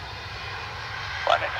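An airliner landing at Dublin Airport on heavy reverse thrust, a steady broad roar from a distance with a brief brighter surge near the end, while a voice speaks over it.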